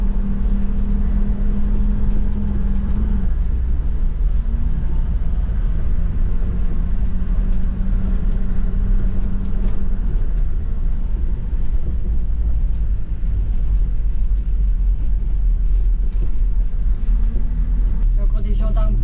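A convoy of 4x4 camper vans grinds up a volcano, with a steady loud engine drone and rumble throughout and someone talking over it.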